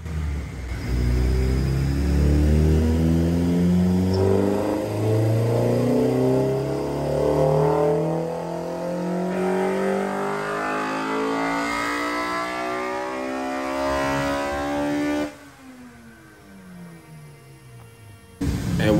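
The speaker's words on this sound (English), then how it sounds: "next is the B16. This is my favorite. It had ITR cams and also full exhaust spoon muffler." A Honda B16 engine with ITR cams and a full Spoon exhaust muffler revs hard and loud nearby, its pitch climbing steadily to a high scream, then abruptly dropping back to idle.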